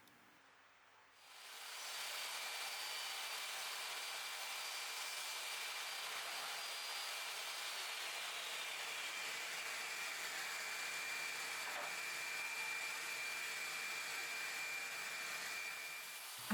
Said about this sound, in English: I went on to rip the back panel into the correct dimensions.